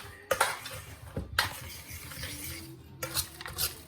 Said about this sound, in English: Gonna give that a good stir with a fork